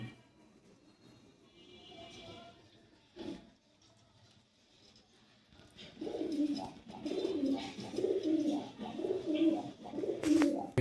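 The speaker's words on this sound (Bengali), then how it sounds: "এই সেই কাঙ্ক্ষিত রেডবুল কবুতর" Red Bull breed pigeons coo in low, throaty, repeated phrases, starting softly and growing louder and steadier in the second half, with faint background noise.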